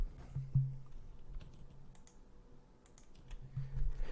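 A few faint, sharp computer mouse clicks sound while working in drawing software, spaced apart in a quiet room.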